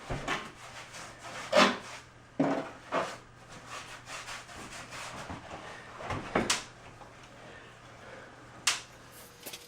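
A paintbrush spreads waterproofing coat over cement board during a wall installation, making intermittent dry rubbing and scraping strokes with a few sharper knocks, close and fairly quiet, with no talking.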